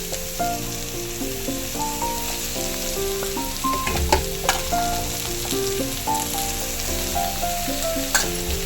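Carrot and cabbage frying with onions in a pan, a constant loud sizzle with stirring clatter, and background music throughout, no voices.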